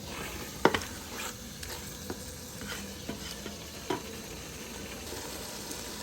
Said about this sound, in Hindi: जब तक ऑयल लाल नहीं होता तब तक इसको भूनेंगे